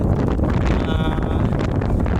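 Strong wind blows across the top of Hermit Mountain in Barangay Bi-ao, Binalbagan, buffeting the microphone with a rough, gusty roar that barely lets up.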